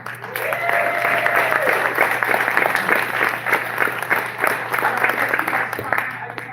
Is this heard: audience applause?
yes